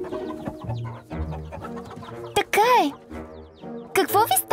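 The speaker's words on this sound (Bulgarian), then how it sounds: "Пилетата ми са нервни." Nervous cartoon chicks cluck in short, bright bursts from an animated children's show, mixed in with a character's talking.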